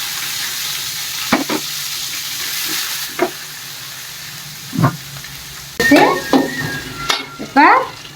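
Capsicum sizzling in a hot pan for masala sevai, with several bursts of stirring and scraping against the pan over a steady fry.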